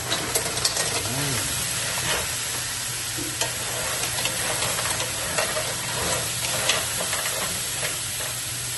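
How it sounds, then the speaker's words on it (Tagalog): Garlic and onion sauté in a pan with clams, a close, steady sizzle and hiss broken by repeated scraping and clinking of a utensil stirring the pan. "ginigisa na natin yung ating bawang at sibuyas"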